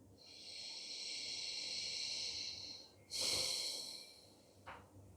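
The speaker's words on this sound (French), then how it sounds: "On peut prendre de profondes respirations." Slow deep breathing during a yoga session, a long airy inhale held for about three seconds followed by a shorter, louder exhale burst, close and soft with no talk.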